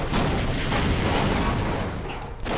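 Grenade explosions in the shooter Half-Life: Hazardous-Course 2, a dense loud barrage of booms and blasts rolling together and tapering off near the end.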